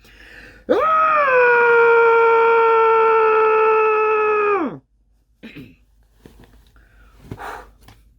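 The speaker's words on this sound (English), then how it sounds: "just scream into the pillow" A person screams into a pillow, one long sustained muffled cry lasting about four seconds, then ends in breathy quiet with faint rustling and soft sounds afterward.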